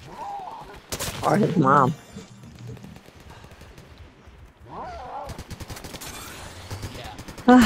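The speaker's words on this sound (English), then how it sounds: "Holy cow, it was a gunfire." Rapid bursts of gunfire in Fortnite crackle in loud clusters, separated by quieter stretches of scattered shots, while a voice talks briefly over the action.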